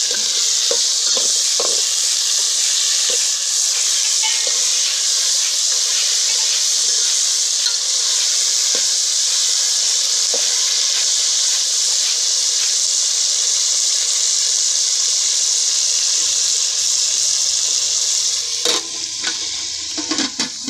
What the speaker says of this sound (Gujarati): લસણ ને ટમેટા ને બધી એડ કરી દીધું ને હવે હલાવે છે.